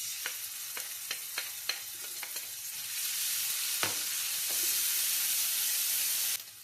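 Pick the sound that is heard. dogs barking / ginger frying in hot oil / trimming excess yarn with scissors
ginger frying in hot oil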